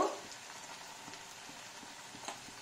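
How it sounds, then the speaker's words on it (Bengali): Chicken pieces sizzle and fry in a pan now that their released water has cooked off, a steady soft crackle with faint pops throughout, no voices. "চিকেন থেকে যেটুকু জল বেরিয়েছিল শুকিয়ে গেছে, ভাজা ভাজা হচ্ছে"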